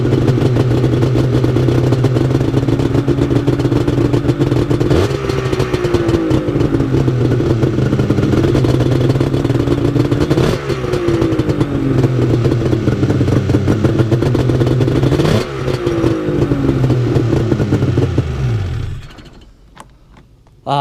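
A Yamaha 780 two-stroke snowmobile engine fires on the first pull and keeps running loud and close with a steady rattly drone, dipping and rising in pitch several times before it cuts off.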